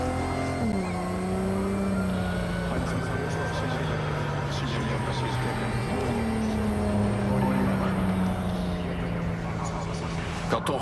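A car driven in the video game Cyberpunk 2077 drones steadily throughout, its engine pitch dipping and rising again as it accelerates, with a game soundtrack or ambience layered underneath.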